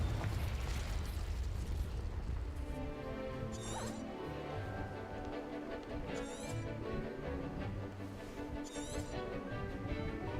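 Spells being cast in a Hogwarts video game, with bursts and crackles over a dense, continuous game score; three bright flaring sweeps recur at intervals through the steady music.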